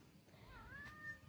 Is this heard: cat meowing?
yes